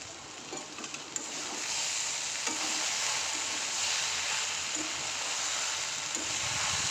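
Vegetables sizzle and fry in a pan for a home-cooked Bengali meal, a steady close hiss with occasional soft clinks and stirring scrapes, and no voices.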